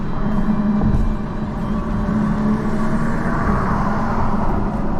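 A 2022 Audi S4 fitted with a CTS Turbo intake pulls under light boost, its engine droning and humming loudly and steadily with a low intake tone throughout.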